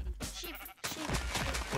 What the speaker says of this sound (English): Kill sheep.